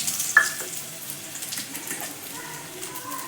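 Dry red chillies with mustard seeds and cumin frying in hot oil for a spinach poriyal, a soft steady sizzle with light crackles and a brief metallic clink near the start, fairly close and without speech.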